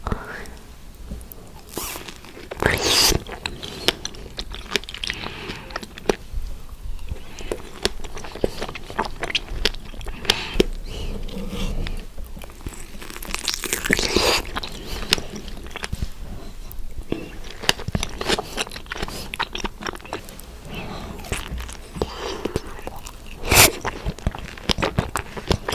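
Close, intimate biting and chewing of fresh strawberries, with repeated soft wet crunches and mouth sounds across the stretch and some quiet voice between bites.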